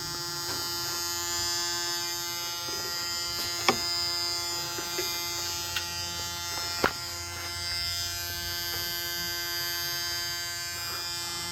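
High-pressure Bosch CP4 injection pump on an EcoDiesel Jeep Wrangler, a steady, close electric-sounding buzz with a faint hum beneath, marked by a few sharp ticks.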